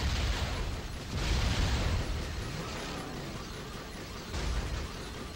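A power missile explodes in the Twisted Metal car combat game, a loud sustained roaring blast with rumbling debris that swells, holds, then surges again near the end, with no voices.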